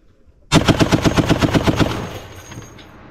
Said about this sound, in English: Relax, it's just a machine gun, alright?